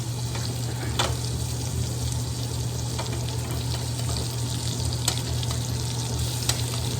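Steak pan-sears in garlic butter with thyme, a steady close loud sizzle and hiss with a few sharp pops and spits throughout, no voices.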